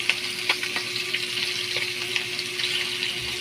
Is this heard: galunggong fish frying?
yes